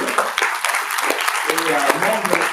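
A burst of applause from a crowd at a solidarity evening in the Hôtel de Ville, Paris, with voices mixed into the clapping throughout.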